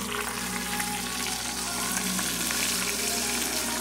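Chicken thighs frying in a pan, about four pieces in hot oil, giving a steady, loud, dense sizzle and crackle that holds evenly throughout with no voices.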